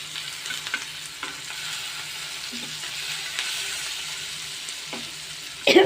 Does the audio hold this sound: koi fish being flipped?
yes